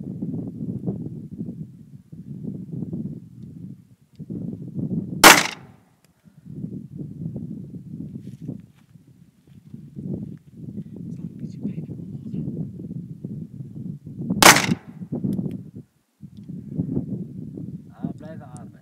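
Two loud, sharp gunshots crack out several seconds apart as a woman shoots at cans outdoors, with speech murmuring before, between and after the shots.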